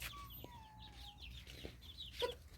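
Chickens in a tribal village give soft, scattered clucks and short calls, faint and somewhat distant, over low background noise with no talking.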